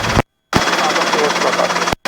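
Robinson R22 helicopter on a training flight, a steady loud engine drone with rapid rotor chop heard from inside the cabin, broken by brief gaps of radio-cut silence.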